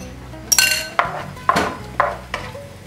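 A utensil mixes cream into carbonara in a pan with the heat off, making four or five evenly spaced scraping clanks against the metal, close and distinct.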